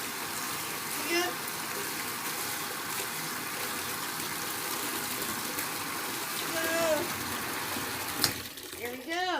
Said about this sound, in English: water's running pretty clear